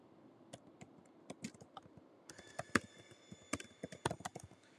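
Someone types an email address on a computer keyboard: quiet, close, irregular key taps that start sparse and then turn into a denser burst of typing, with no speech.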